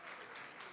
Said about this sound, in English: Please put your hands together for her.